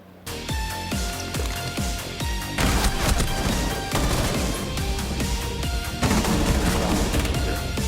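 M870 shotgun firing in the video game Rainbow Six Siege, a series of sharp, punchy blasts in quick succession followed by dense overlapping gunfire and crashing impacts, loud and continuous.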